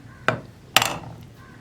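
A knife slices through the peel of a ripe plantain being prepared for sweet banana chips, producing two short, crisp cuts about half a second apart, close and fairly clear against a quiet background.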